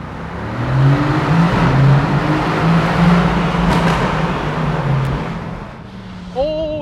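A 2018 Mercedes-AMG GT C roadster in Sport Plus with exhaust baffles open echoes through a tunnel, a loud rising engine roar that swells and sustains before easing off, with a brief voice near the end.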